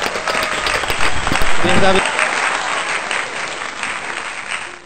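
Kids clap loudly for the winner of a memory game, a thick burst of applause that swells for about two seconds and then thins to a softer, continuing patter, with a voice briefly heard at the start.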